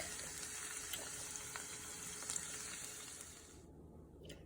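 Lobster meat sizzling quietly in melted garlic butter in a pan, a soft steady crackle that drops away near the end.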